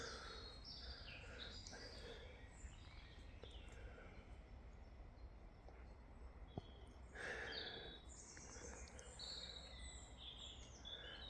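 Birds sing and chirp continuously in the woods, several overlapping calls at moderate distance over a soft, steady ambient hiss, with no talking.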